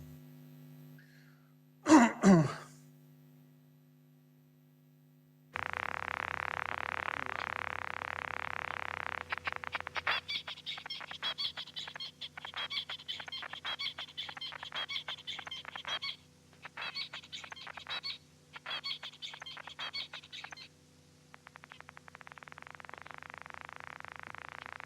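A short burst of loud crackle, then a steady hiss with repeated bursts of rapid clicking and crackling birdsong played alongside a neuron's spiking activity, distorted and electronic-sounding, alone without talk.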